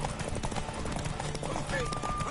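Horse hooves clip-clop steadily in the video game Witcher 3, a brisk, continuous patter of hoofbeats mixed with other game sounds and voices throughout.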